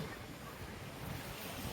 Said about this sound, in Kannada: ಮಸ್ತ್ ಗಾಳಿ ಇದೆ.